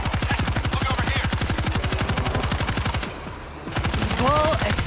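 Sustained rapid machine gun fire from a set-up weapon in the zombie shooter World War Z, Jerusalem chapter, loud and steady, briefly pausing before resuming amid game effects and creature shrieks.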